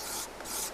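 Wooden neck of a classical or flamenco guitar rubbing and squeaking as it is pushed into its joint; two close, rasping scrapes with a short pause between, no voices.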